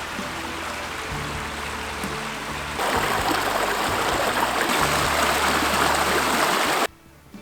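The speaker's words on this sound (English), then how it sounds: "The water's flowing pretty good at Maggie's Glen." A woodland stream at Maggie's Glen flows steadily, a continuous close rushing and gurgling that swells louder partway through before cutting off near the end.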